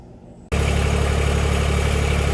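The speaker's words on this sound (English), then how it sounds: "We'll actually start the tractor now, let it run, and then we'll shut it down and we'll recheck it." An RK19 tractor engine fires up abruptly after a brief quiet moment, then settles into a loud, steady, close-up running idle with an even low throbbing pulse and no talking.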